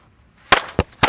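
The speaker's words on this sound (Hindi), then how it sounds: "ये है कोबरा पटाखों की लड़ी" A Cobra firecracker string tested underwater during Diwali gives three sharp, loud pops in quick succession, close by, after a brief quiet moment.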